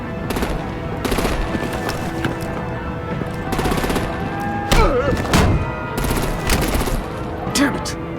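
Gunfire and heavy artillery in Batman: The Telltale Series, rapid bursts of automatic fire and thudding blasts repeating throughout, loud and close, with a voice breaking in partway.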